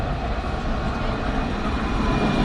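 A tram arrives at a station in Morocco with a steady low rumble and rolling rail noise, fairly close and continuous, over a busy outdoor background.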